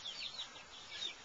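Young chicks chirp and peep in quick faint bursts while scampering around a roomy pen with leaves and dirt, with one chick carrying a green leaf as the others chase her.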